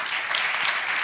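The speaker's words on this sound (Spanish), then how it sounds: "Un aplauso, ¿verdad? Para un aplauso." Applause from an anniversary celebration audience, a steady dense patter of many hands clapping throughout the short moment, fairly close and even in loudness.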